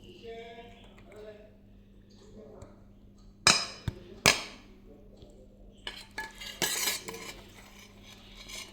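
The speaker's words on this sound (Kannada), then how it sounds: "1 ಕಪ್ ತೆಂಗಿನಕಾಯಿ ತುರಿ ಹಾಕಿ ನೀಟಾಗಿ ಮಿಕ್ಸ್ ಮಾಡ್ಕೋಬೇಕು." A spoon scrapes and clinks against a metal pot while grated coconut is mixed into avalakki sweet pongal, with sharp metallic knocks and scraping under quiet intermittent talk.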